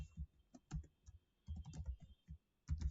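Someone types HTML code into Notepad on a computer keyboard: quiet, close clicking keystrokes in short irregular bursts with brief pauses, no talking.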